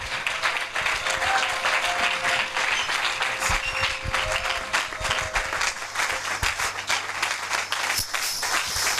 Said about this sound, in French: Vos acclamations, nous accueillons Papa.